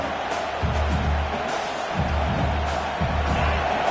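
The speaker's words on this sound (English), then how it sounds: "this crowd coming to life here, trying to help the defense get a stop" Football stadium crowd roaring and cheering to rally the defense, a dense, sustained wall of noise with low rumbling swells rising and falling throughout.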